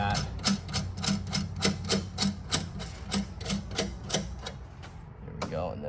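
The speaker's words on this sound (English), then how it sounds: "all I'm gonna do is tighten this down, torque it down against this so that it's locked into place" Door closer hardware being tightened down, a quick run of sharp metallic ratcheting clicks in a steady rhythm, close up, with a brief pause and a scrape at the end.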